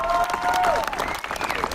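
A crowd cheers and applauds loudly at a hero's welcome for a police constable in Nova Scotia, with dense steady clapping, raised voices and whistles.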